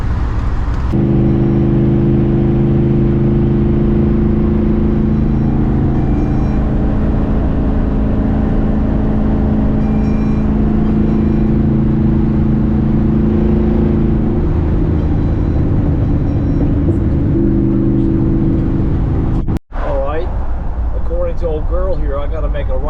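A car cruises on the German Autobahn near the Frankfurt Kreuz interchange of the A3 and A5, with a loud, steady engine and road drone throughout, people talking over it, and a sharp click near the end.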